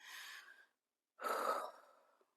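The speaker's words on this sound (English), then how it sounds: "let me take a deep breath" One person takes a deep breath alone in quiet: a long, audible inhale, a brief pause, then a fuller, airy exhale that trails off.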